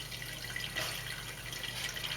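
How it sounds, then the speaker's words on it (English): A steady, unbroken rush of water runs down a newly cleared house drain during a flow test, a constant close hiss with no pauses and no talking. "I do hear a steady stream of water."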